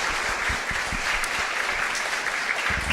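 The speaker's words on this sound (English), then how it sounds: "Let's give Maggie a round of applause." Audience at a social media breakfast event applauding a speaker, dense continuous clapping from a room of people, fairly close and loud, with no voices over it.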